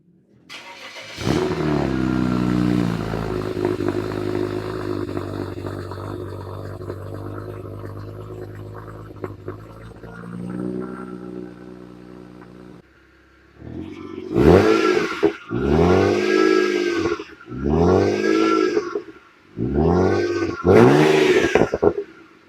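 A tuned BMW X6 with an N54 engine cranks and catches, then idles steadily before revving several times in quick bursts, each climbing and falling back.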